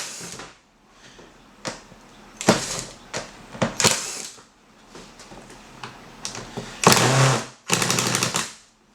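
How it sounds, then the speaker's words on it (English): Screws being undone on a Ridgid Shop-Vac, with a run of close, irregular clicks, clatters and bursts of whirring that suggest a driver and plastic housing parts being handled, with no one talking. "So you go ahead and you undo these screws."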